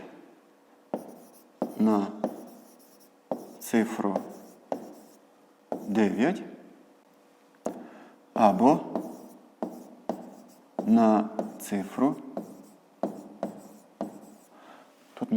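A pen writes digits on paper during a 5th-grade math exercise, giving short bursts of scratchy strokes separated by pauses, close and distinct.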